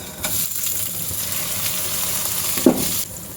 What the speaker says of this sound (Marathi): आता याच तुपामध्ये आपल्याला घालायचं आहे चार वेलची लवंग आणि स्वच्छ धुवून घेतलेला बासमती तांदूळ